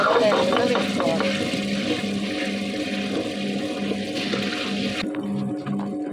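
A wet grinder churns soaked dal with water, giving a steady, loud, whirring, sloshing drone that runs continuously and stays close throughout.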